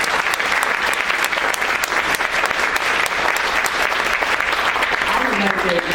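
Audience applause after a policy session, a dense continuous patter of many hands clapping close by throughout.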